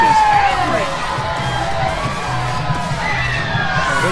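Angry wrestling crowd at a lucha event reacting with a dense wash of shouts, yells and jeers, loud and steady throughout, with voices calling out above the din.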